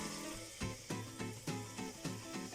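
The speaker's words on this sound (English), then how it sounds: "There you can hear the sizzling." Garlic sizzles in warm oil in a pan, a soft, steady hiss broken by a string of regular knocks or taps, all fairly faint with no talking.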